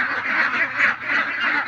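A flock of ducks quacks loudly and continuously close by, a dense overlapping chorus.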